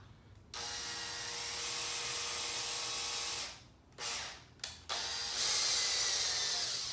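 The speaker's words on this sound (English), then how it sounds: "I use a power drill. It's plastic." A power drill whirs in a long, high-pitched burst into the plastic of a 2019 Hobie Outback while fitting a Scotty downrigger, stops, then gives a couple of short spurts before running steadily again.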